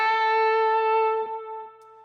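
A short electric guitar lick with each note picked, distorted and ringing, a few clear attacks followed by a long sustained note fading out, played alone.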